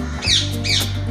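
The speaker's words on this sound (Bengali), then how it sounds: "কাঁচের মধ্যে নিজের ছায়াটা দেখতে হচ্ছে, তার জন্য চিল্লাচ্ছে" A ring-necked parrot perched at a window gives two sharp, loud squawks in quick succession at its reflection in the glass, close by.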